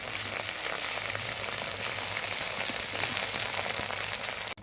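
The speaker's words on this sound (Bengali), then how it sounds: "এই দেখো পেঁয়াজটা আস্তে আস্তে ভাজা হচ্ছে" Onions fry slowly in a pan with ginger-garlic paste added, giving a steady, close crackling sizzle like light rain that runs unbroken throughout, no talking.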